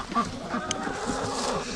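Several chickens cluck and squawk agitatedly near the nest, short overlapping calls in a busy, close flurry with no one talking.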